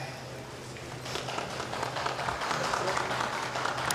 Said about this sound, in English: I am hearing some applause for Buda Shobat